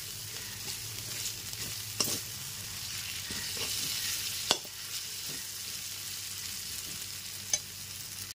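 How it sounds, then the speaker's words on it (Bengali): Ginger and green chili paste frying in a pan over a low-medium gas flame, with a soft, steady sizzle and a few sharp clinks from stirring, near and alone without talk. "আদার কাঁচা লঙ্কা বাটাটা গ্যাসের ফ্লেমটা লো টু মিডিয়ামে রেখে একটু কষিয়ে নিতে হবে।"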